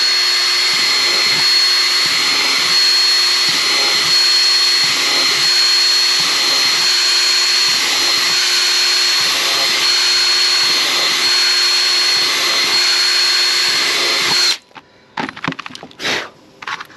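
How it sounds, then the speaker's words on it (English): A power drill whirs continuously for about fourteen seconds drilling holes in a bucket lid, with a faint rhythmic pulsing, then stops, followed by a few light clattering knocks. "You've got to be careful that you don't drill the same hole twice."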